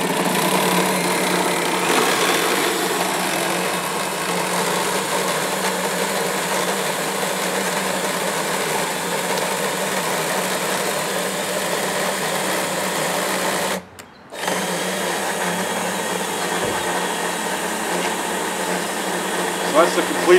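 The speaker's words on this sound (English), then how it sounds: "We're going to end up drilling all the major root flares to make sure that the tree is structurally sound." A resistograph drills into the root flare of a tree, its motor giving a steady, loud, buzzing whine that runs almost without a break and cuts out once for a moment before resuming.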